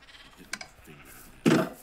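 A Minecraft sheep from the MineColonies mod gives one short, fairly loud bleat near the end, after a few faint soft game sounds in a mostly quiet stretch.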